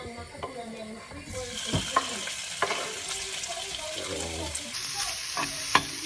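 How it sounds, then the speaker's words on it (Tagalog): Shrimp sautéing in a pan while okoy fritters are prepared: a bright continuous sizzle that grows fuller after the first second, with scraping stirs and a few clinks, close up and without speech. "Gisa natin yung konti yung hipon para natin nahalo."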